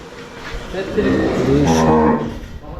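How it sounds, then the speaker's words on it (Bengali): A cow on a cattle farm gives a loud, close, drawn-out moo that swells in the middle and fades, with farm background noise around it. "এই গরুটা মাসাল্লাহ খুব সুন্দর"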